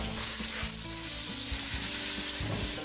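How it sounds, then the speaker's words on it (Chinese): Crucian carp fries in hot oil in a wok, browning on both sides, giving a steady close sizzle with scattered pops and light crackles throughout. "鲫鱼煎至两面黄"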